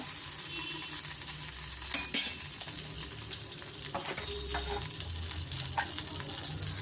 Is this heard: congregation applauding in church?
no